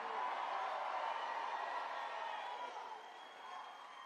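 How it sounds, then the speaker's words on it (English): A large crowd at a Trump town hall in Oaks, Pennsylvania, roars with steady cheering and whoops, loud and sustained throughout before easing slightly near the end. "This is a nice crowd."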